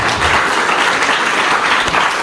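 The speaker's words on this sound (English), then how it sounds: "Let's give him a round of applause while we mic him" Loud, dense audience applause at a beekeeping gathering, a continuous wash of many hands clapping close by.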